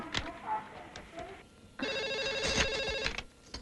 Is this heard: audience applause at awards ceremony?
no